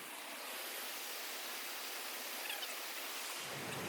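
A river rushes over stones on a backcountry tramping route on the Kowhai-Hapuku Circuit, a steady broadband hiss of flowing water that stays constant and close for the whole stretch.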